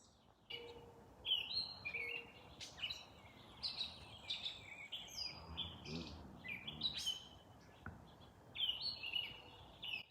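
Several birds chirp and tweet repeatedly at a moderate distance, overlapping calls in a quiet outdoor setting with no talking.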